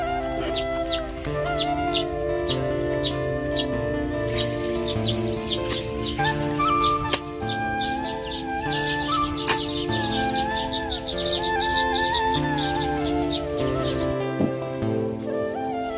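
A dense chorus of sparrows chirping continuously, many rapid overlapping tweets close by, busy and lively throughout with no talking.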